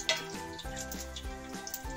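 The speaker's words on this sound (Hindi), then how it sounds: "तो हमारा तेल गर्म हो चुका है, अब हम इसमें तड़का लगाते हैं।" Crackling sizzle of bay leaves, cumin, black peppercorns and dried red chilies frying in hot oil, steady and close, with a few sharper pops scattered through.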